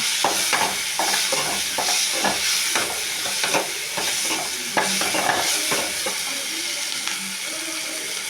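Ridge gourd chutney ingredients sauté in a pan with a continuous sizzle, broken by regular scraping strokes of a spatula stirring close by.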